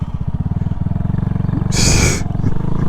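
A small motorcycle cruising in fifth gear at high revs gives a close, steady, buzzing engine drone, interrupted near the middle by a brief loud hiss of rushing noise.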